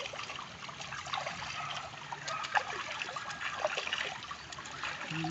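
Ducks swimming and splashing in a river: water trickling and gently splashing nearby, with soft scattered splashes over a steady flowing background.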